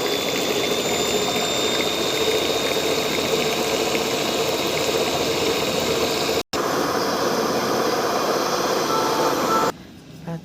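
Eggs are beaten for a cake batter with an electric mixer, a steady, loud motor whir that holds evenly, briefly cuts out, resumes, then changes tone near the end.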